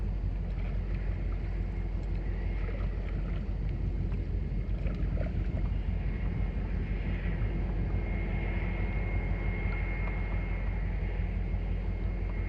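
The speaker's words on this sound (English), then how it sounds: "Oh, we got some engine action." A steady low engine drone runs throughout, with wind and water noise over it, constant and moderately loud.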